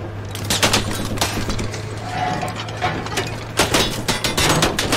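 Tank main gun firing in the video game Squad, one sharp blast heard amid mechanical clanking and rapid gunfire bursts, dense and loud throughout the scene.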